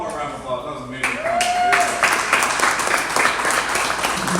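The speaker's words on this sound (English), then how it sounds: "One more round of applause." Audience applause at a live podcasting event, a steady wash of many hands clapping that swells after a brief voice and tone at the start and continues loudly to the end.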